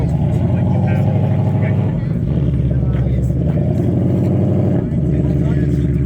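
A Ford car's engine idles and rumbles loudly at an outdoor car show, a throaty, steady drone with slight revs, while people talk over it.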